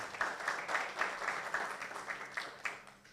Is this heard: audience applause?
yes